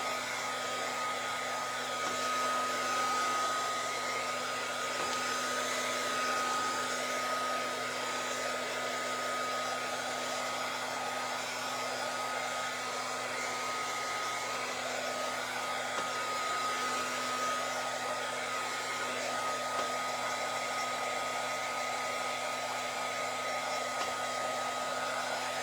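A hair dryer runs steadily and loudly without pause, blowing over freshly painted craft cookies to dry them, with no talking over the constant whirring hum.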